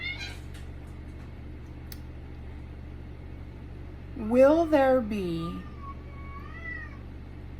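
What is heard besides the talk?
cats meowing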